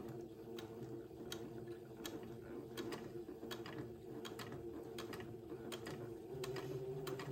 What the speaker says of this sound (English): line up my second pin tuck with my presser foot and start sewing slowly